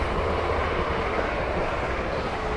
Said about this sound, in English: And guess what? A train!